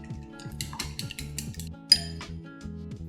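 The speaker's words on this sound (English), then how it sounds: "Mix the eggs well." Eggs being mixed well in a bowl for chicken katsu, faint quick clinks of a utensil against the bowl repeating over a steady musical background.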